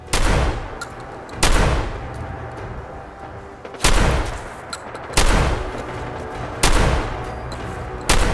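Sniper rifle shots in the video game Fallout 4: five loud, booming reports spaced roughly a second and a half apart, each trailing off in a rolling echo, with no talking.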